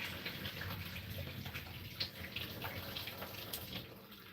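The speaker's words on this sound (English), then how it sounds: "So I'm not draining all of the water." Water from a pot of cooked plant-based macaroni pours and splashes steadily into a kitchen sink, a continuous faint rushing wash with no talk.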